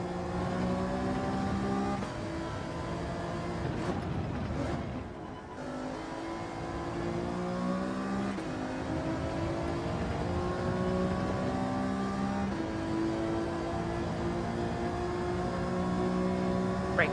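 Race car engine in Gran Turismo 7 holding a steady high drone, briefly dipping as it brakes and shifts for a left-hand turn, then revving back up continuously and close throughout.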